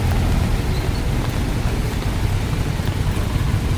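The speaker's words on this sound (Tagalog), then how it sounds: "Malakas pa rin ang ulan." Heavy, steady rain pours over Camias Road during a street clearing operation, a dense unbroken roar with low rumble, likely mixed with nearby traffic or engine noise.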